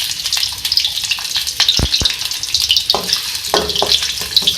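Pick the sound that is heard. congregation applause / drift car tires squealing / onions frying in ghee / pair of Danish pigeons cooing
onions frying in ghee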